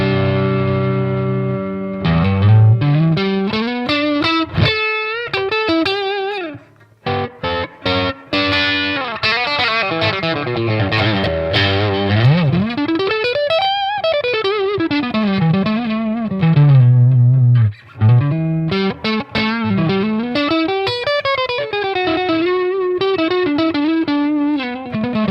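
Electric guitar through a Boss Katana 50 amp on its crunch setting, playing continuous distorted riffs and bending lead lines with chords, loud and close with no talking.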